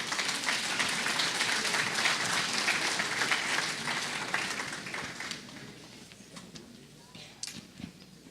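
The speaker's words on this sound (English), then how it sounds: "Let's bring them to the stage with a round of applause." A round of applause from a competition audience welcomes contestants to the stage, a broad clapping wash that fades over several seconds into scattered isolated claps and faint room noise.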